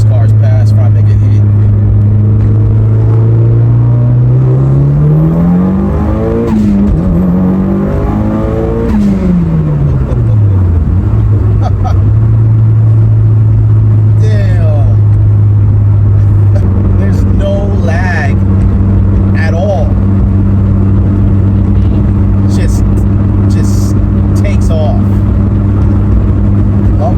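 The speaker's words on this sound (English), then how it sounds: "Let these cars pass before I make a hit." Traffic passes on a road around a tuned Mitsubishi Evo that idles and rolls, its engine droning steadily up close while other cars go by; someone talks over it.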